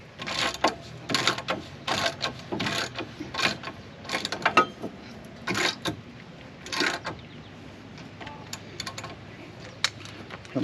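A hand ratchet works a bolt on a 2009 car's suspension with quick, uneven bursts of sharp clicking pawl strokes, close and clear, pausing between strokes, with no talking.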